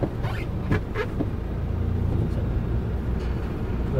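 A manual car in a driving-school lesson pulls away in second gear, its engine giving a low steady rumble near 2000 RPM, fairly quiet and continuous inside the cabin, with no talk.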